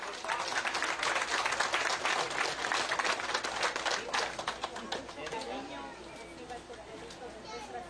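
Loud, dense applause from an audience at a road inauguration ceremony in Ecuador, with sharp close claps on top that thin out and fade over the last few seconds as a voice speaks.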